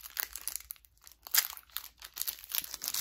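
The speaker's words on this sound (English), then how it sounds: "now let's actually start unboxing the Pokemon cards" A Pokémon Legends Arceus booster pack is ripped and crinkled open by hand. The foil gives close, uneven bursts of crackling and tearing for about three seconds, with no talking.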